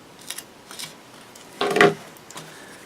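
Several soft, separate snips of scissors cut vinyl film for an RC Long EZ model aircraft, with one louder, longer cut in the middle, heard close in a quiet room.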